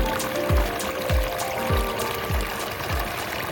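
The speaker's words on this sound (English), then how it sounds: "Lovely little stream." A small stream flows and trickles steadily nearby, a continuous watery babble with soft recurring gurgles and splashes, fairly quiet and with no voices.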